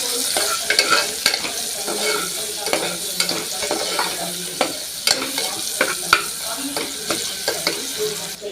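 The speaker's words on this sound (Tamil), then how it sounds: "தக்காளியெல்லாம் வேகிறதுக்காக போதுமான அளவு சால்ட்டு, மஞ்சத்தூள், இதையும் நல்லா மிக்ஸ் பண்ணி விட்டுடலாம்" Steady sizzling of tomatoes with salt and turmeric frying in a pan, with repeated scraping and clacking as a utensil stirs the mixture; no talking.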